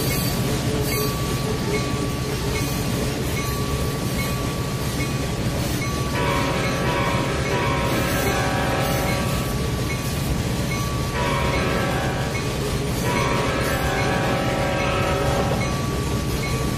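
A diesel train from the Trainz 2019 railway simulator rumbles steadily near the dock area, with a constant engine drone, wheel clatter and a sustained tonal whine running loud and unbroken throughout.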